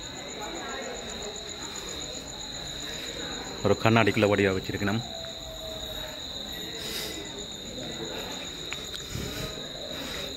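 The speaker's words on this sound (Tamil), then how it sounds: "இந்த சில்வண்டு நல்ல சத்தம் போட்டு" Cricket or cicada chirping steadily outdoors at a Shree Krishna temple in NSW, Australia, a continuous high insect drone throughout with someone talking over part of it.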